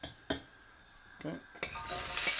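Chopped onion hits a very hot oiled pan for a takeaway-style chicken curry, with a couple of utensil knocks before a loud, bright sizzle builds up close by at the end.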